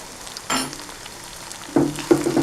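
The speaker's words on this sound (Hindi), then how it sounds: "सिर्फ 1 या 2 दफ़ा इसको इस तरह हिलाना, इस तरह" Masala okra (bhindi) with green coriander and garam masala stirred once or twice in a frying pan, a few scraping strokes and soft sizzling in short bursts, close and alone.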